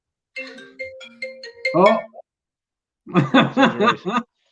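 A phone ringtone plays a short bright electronic melody of a few tones, then a person talks briefly over a quiet background.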